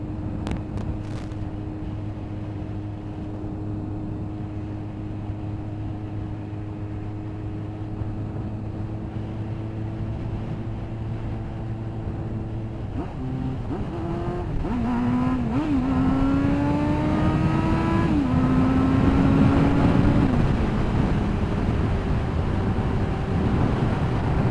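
A Kawasaki ZX9R sport motorcycle engine runs steadily while riding, its tone holding even before rising and wavering as the revs climb, then easing back, loud and continuous with no talk.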